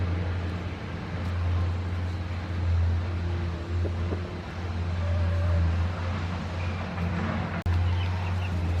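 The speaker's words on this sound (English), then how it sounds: "We're getting used to the sound of trucks." Heavy trucks rumble steadily at a new construction site across the road, a continuous low drone with wind and faint birdsong over it.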